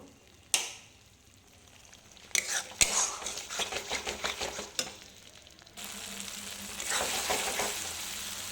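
Food fries crisply in a hot pan with a loud sizzle and bursts of crackling. Metal utensils clink and scrape against the pan throughout, and the sizzle swells louder near the end.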